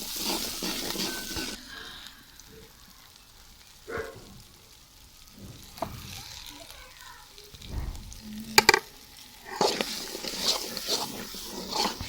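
Oil sizzling and crackling in a pan as a tadka of garlic, green chilli and tomato paste fries for masoor dal, with brief stirring knocks and clatter; the frying swells louder near the start and end.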